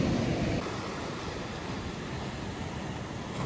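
Loud ocean waves and surf on the rocky Cabot Trail coast of Cape Breton, Nova Scotia, a steady broadband roar that fills the whole stretch, slightly louder at the start, with no voices.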